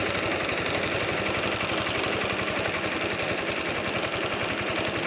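A vintage cylinder lawn mower's Villiers engine, freshly started after four years unused, runs steadily with a fast, even chugging pulse that stays loud and close throughout, with no voices.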